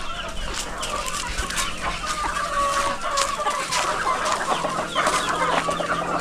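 Darag native chickens clucking close by at a feeding spot, a busy overlapping chorus of short clucks and calls alongside scattered bird sounds.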